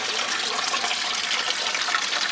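A homemade miller table runs with water flowing across it, a loud continuous rushing and splashing like a running tap, steady throughout with no voices.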